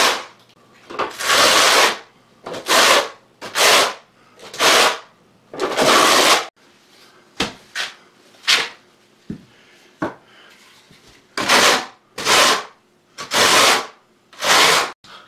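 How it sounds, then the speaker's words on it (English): A putty knife scoops ceramic tile adhesive out of a container in a series of sharp, scraping bursts. The strokes are close and loud, with short gaps of near silence between them. "So I'm using this putty knife just to get it out of the wall"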